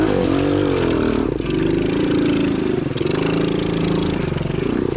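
A cheap Temu dirt bike engine with an auto clutch revs hard and steadily, pitch dipping and climbing as it shifts into second gear during an off-road ride near a water crossing, loud and close throughout.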